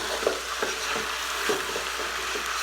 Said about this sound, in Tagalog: In-steer na natin.